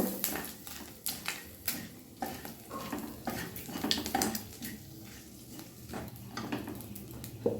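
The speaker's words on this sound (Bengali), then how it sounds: "আমি গোটা গরম মশলা একটা তেজপাতা ফোড়নে দিলাম ফোড়নটা এবার ভেজে নেব" Whole garam masala and a bay leaf frying in oil in a wok for rui fish kalia, a soft sizzle under repeated sharp clinks of a metal spatula stirring against the pan.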